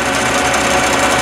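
A Hardinge HLV-H high-precision toolmaker's lathe runs in reverse at low speed, giving a loud, steady, close mechanical whir and hum that holds constant throughout, with no speech.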